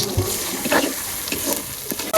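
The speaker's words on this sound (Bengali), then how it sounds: "এবার মশলা কষাই নিই" Ground turmeric, chili powder and salt stir-fried in oil in a pan for a village-style country chicken dish: a steady sizzle with a few scraping stirs, close and fairly loud, no talk.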